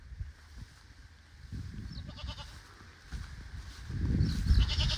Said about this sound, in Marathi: तशी बकरे शेळी